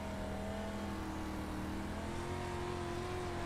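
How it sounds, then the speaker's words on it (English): Stock car engine in a sim racing game, a street stock at a short oval, holding a steady revving drone with shifting harmonic tones throughout, loud and continuous with no talk. "you heard the rev of the engine"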